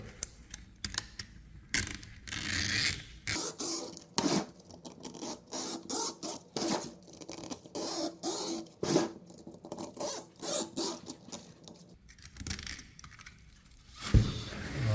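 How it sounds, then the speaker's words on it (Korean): Repeated rasping scrapes of a knife drawn through insect screen mesh, in short irregular strokes, close and fairly quiet. "칼질도 한번 해볼게요"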